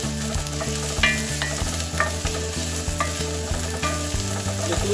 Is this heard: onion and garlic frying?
yes